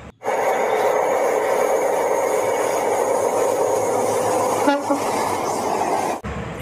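A toy high-speed train whirs along steadily with a bright, buzzing motor and a brief horn-like tone near the end, then stops abruptly.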